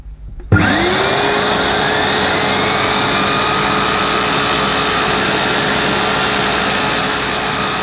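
A Vax Luna 3-in-1 vacuum cleaner with a turbo nozzle switches on with a sudden whoosh, its motor whine rising quickly in pitch, then settling into a loud, steady high-pitched roar.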